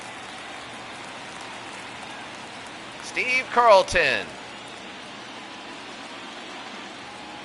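Rain in a baseball video game, MLB The Show 24, keeps up a steady soft hiss throughout while a commentator briefly speaks over it partway through.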